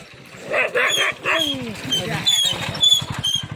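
A dog gives a few short yips and barks amid mixed background noise, with people talking nearby.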